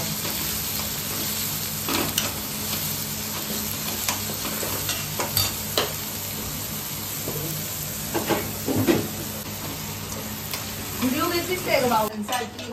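Spice masala fries in a pan for a jackfruit vegetable dish, a constant close sizzle broken by scraping stirs and clanks of a utensil against the pan, with a brief murmur of voice near the end.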